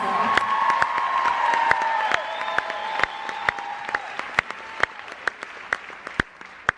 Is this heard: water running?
no